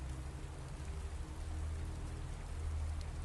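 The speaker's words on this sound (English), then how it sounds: "The rain has been falling on the Skirrid Mountain Inn for 900 years, and beneath that constant drumming" Rain falls on the Skirrid Mountain Inn, an ancient inn, as a constant dense drumming hiss with a low rumbling undertone, steady throughout with no voices.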